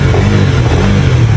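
A Honda CBR motorcycle engine running loud and close, a steady, rough, low mechanical roar with slight rev fluctuation, heard alone.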